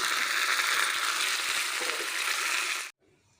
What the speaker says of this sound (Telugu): ఇప్పుడు ఉల్లిగడ్డలు కూడా వేస్తున్నాను